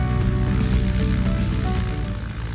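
A Titan Tornado light airplane's engine drones steadily at close range, with a dense, even harmonic hum and propeller buzz throughout, easing slightly toward the end.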